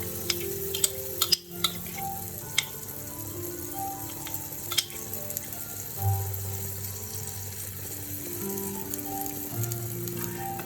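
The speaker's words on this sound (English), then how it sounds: "The pan is nice and hot and the right time to put my okonomiyaki batter." Okonomiyaki batter, a Japanese vegetable pancake, sizzles steadily in a hot pan, a constant close frying hiss with a few small clicks and knocks from the cookware.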